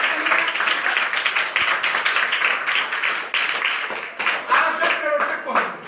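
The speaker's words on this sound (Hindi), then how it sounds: "जोरदार ताली बजाई।" A crowd claps loudly and continuously for several seconds, a dense ongoing burst of applause.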